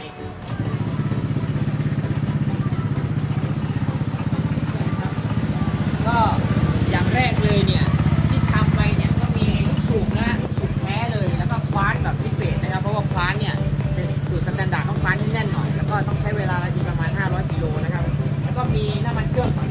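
A Honda PCX 160 scooter engine, freshly set up with a new air filter and belt, runs steadily at a loud, close idle throughout, with someone talking over the engine.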